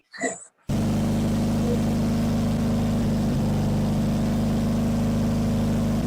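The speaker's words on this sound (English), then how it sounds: "Okay, engine's running." Twin Crusader marine engines on a boat start up and run at a loud, steady idle. The deep, even drone fills the clip after a brief quiet moment at the start.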